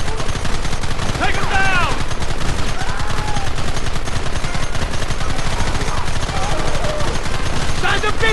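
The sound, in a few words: gunfire in the video game Red Dead Redemption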